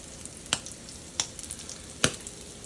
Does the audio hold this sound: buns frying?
yes